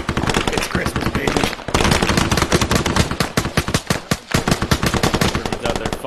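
Rapid machine gun fire in a video game, loud and close, with sustained bursts of rattling shots separated by a brief pause.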